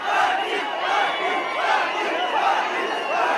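A dense crowd of protesters at CSMT station in Mumbai raises a steady, loud roar of many shouting voices, an unbroken mass of chanting and calling with no single speaker standing out.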